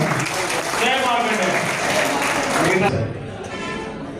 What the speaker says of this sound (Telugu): అందరికి చప్పట్లు కొట్టారా